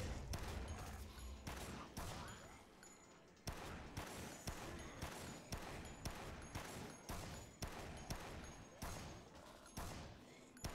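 Gunfire in the video game Dead Rising, a rapid string of evenly spaced gunshots, a dozen or more sharp cracks in quick rhythm, loud and close with little talk.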